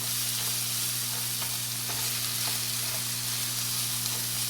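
Steady sizzling of chopped onions frying in a pan, with soft scraping stirs now and then, close and continuous with no talking.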